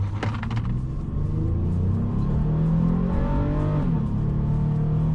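A car accelerates hard during an acceleration run timed with an Ancel BD200 OBD2 scanner, its engine rumbling loud and steady and rising in pitch as it pulls through the gears.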